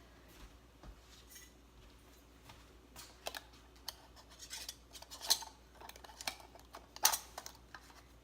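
A hot metal lid is fitted onto a canning jar of drunken peaches: quiet, scattered small clicks and taps against glass, with a couple of sharper ticks near the end in a hushed room.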